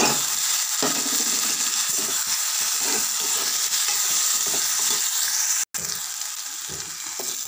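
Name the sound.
ginger garlic paste frying with onions in a pan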